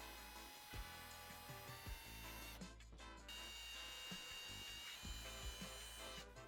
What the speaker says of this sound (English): Now we can take a 1/4 inch drill bit and drill the 4 mounting holes.